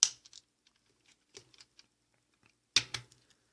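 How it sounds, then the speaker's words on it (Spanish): Plastic parts of a deluxe-class Transformers Cannonball toy click sharply at close range, with one loud snap at the start, faint fiddling ticks between, and another firm click near the end. "Y cerramos esto. Hasta que haga clic."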